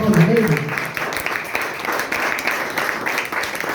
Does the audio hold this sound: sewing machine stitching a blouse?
no